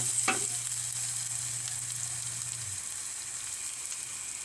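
Chicken feet sautéing in a pan for adobo, a steady sizzle with stirring scrapes, plus a low tone that fades out partway through.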